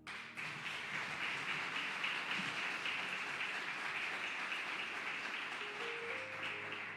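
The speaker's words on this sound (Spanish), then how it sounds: "Dele un aplauso al Rey." A church congregation claps in praise, a thick, even wash of applause heard at a distance, with faint sustained tones entering near the end.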